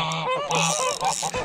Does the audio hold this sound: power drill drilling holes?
no